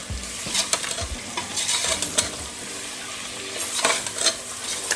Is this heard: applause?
no